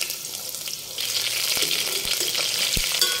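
Onions hit hot oil in a pan and set off a loud, steady sizzle that swells after a second and keeps crackling close by.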